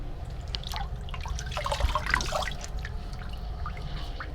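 Hands being rinsed under running water from a tap after lathering soap and alum, a steady close trickle and splash that swells slightly midway, with no talking.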